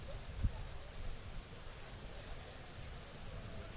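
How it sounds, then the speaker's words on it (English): Heavy rain pours at a rugby ground during a league match, a soft steady hiss of downpour with a low background rumble and a brief thump near the start, faint overall. "the rain has just got much heavier here at Police Park."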